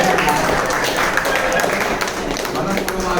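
An audience at a Tamil talk claps in a dense, steady patter that fills the whole moment at a fairly loud, even level, with a speaker's voice partly audible underneath.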